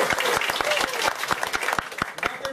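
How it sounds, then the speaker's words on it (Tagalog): An audience gives a short burst of applause for a guest at a gathering, with lively clapping and a few distinct, sharper claps standing out over the crowd. "Malakas na palakpak for Miss Raquel Falsis."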